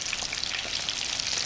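Steady, close crackling and sizzling of crumbed Spanish olives frying in hot oil, with constant fine popping and no voices.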